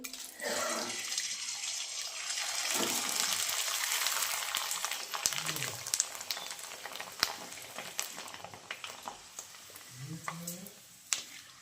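Fasting papads frying in hot oil, giving a loud, broad, crackling sizzle that gradually eases into scattered pops, with a voice briefly speaking over it.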